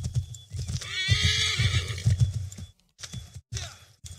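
Horse in the Assassin's Creed 3 video game neighs loudly while hooves clip-clop in a steady rhythm, the whinny dominating the first few seconds before brief pauses and renewed hoofbeats.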